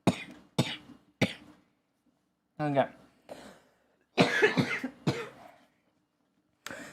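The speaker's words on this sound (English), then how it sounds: "don't mind my coughing" Several sharp coughs come in bursts with pauses between them, close to the listener, and a brief spoken word among them.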